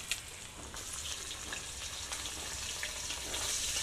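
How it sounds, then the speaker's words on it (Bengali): Chopped ginger and garlic fry together in a pan, a soft, steady sizzle with faint crackles, fairly quiet and without talk. "এটাও রসুনের সাথে ভেজে নেব।"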